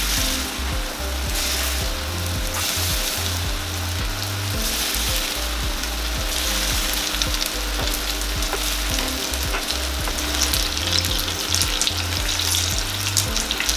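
Spoonfuls of saltfish fritter batter fry in hot oil in a pan over medium heat, a loud, steady sizzle and crackle that runs unbroken throughout, with no voices.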